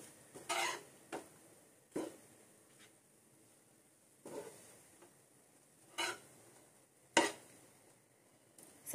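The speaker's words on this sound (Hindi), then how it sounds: "तो चलिए इसे भी हम अच्छी तरीके से मिक्स कर देते हैं।" A spoon scrapes and clinks in a pan as mutton tawa pulao with mint and coriander leaves is mixed, giving a few sparse, soft knocks spaced several seconds apart in a quiet kitchen.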